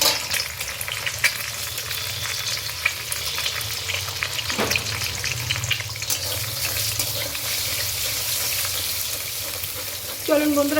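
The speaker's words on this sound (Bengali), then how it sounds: "এবার এই তেলে আমরা ডিমটাকে ফ্রাই করে নেব।" An egg frying in oil in a home kitchen, with a steady bed of crackling and sizzling, stirring clatter and a brief watery splash near the end, close and continuous with no talking.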